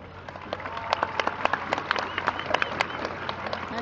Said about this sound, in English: Please give a round of applause for these people.